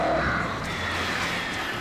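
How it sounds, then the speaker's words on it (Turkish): Crows caw in the video game Alan Wake, a brief rough call near the start over a dense, droning game ambience lasting under two seconds. "Kuşların hemen gideceğini düşünmüştüm."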